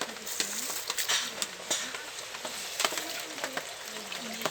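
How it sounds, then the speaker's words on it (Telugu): Water for coconut pulao boils in a covered pot, giving a steady, soft bubbling hiss, with faint tonal cooing sounds in the background. "చక్కగా మరుగుతూ ఉంది"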